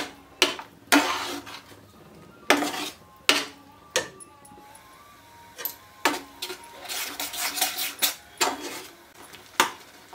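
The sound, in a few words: stirring masala and tomato puree in a pan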